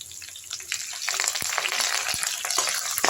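Curry leaves and garlic sautéed in hot oil, a bright dense crackling sizzle with a couple of spatula knocks, loud and near.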